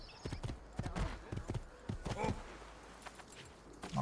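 Horse hooves clip-clopping in Assassin's Creed 2, a steady rhythmic gallop of close, sharp hoof strikes running through the whole stretch with game ambience behind.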